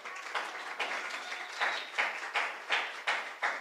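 Church congregation applause heard faintly and at a distance, a soft continuous patter of many hands with a gently pulsing rhythm, and no talk over it.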